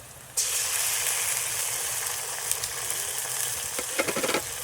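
Ginger-garlic paste sizzling in hot oil in a pan over a wood-fired chulha outdoors on a farm, a sudden steady hiss that starts sharply and holds loud, with a few crackles and spits near the end.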